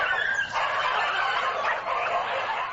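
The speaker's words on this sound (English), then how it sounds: "It's an everyday dog fight in remote Northern Territory." Dogs fight in a remote Northern Territory community, a dense, loud tangle of snarls, yelps and barking that continues throughout.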